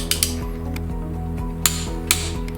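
A torque wrench tightening car wheel lug nuts gives a rapid ratcheting clatter with several sharp, loud clicks as it reaches torque, close up and with no talking.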